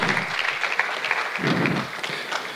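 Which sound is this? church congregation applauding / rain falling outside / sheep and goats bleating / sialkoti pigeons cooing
church congregation applauding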